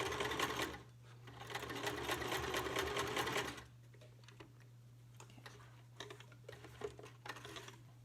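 Sewing machine stitching close to the edge of a fabric face mask to secure its pleats, a loud steady run at first, then quieter intermittent ticking stitches over a constant low hum.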